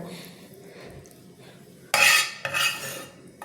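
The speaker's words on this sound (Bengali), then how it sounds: "দেখুন একটা চামচ দিয়ে কিন্তু একটা প্লেটে আমি সার্ভ করে নিচ্ছি আলু দিয়ে এই সজনে ফুলের ভাজা" A spoon scrapes and clinks against a plate while drumstick-flower fry with potato is being served. Two sharp, close clatters come in quick succession after a quiet start, with no talking.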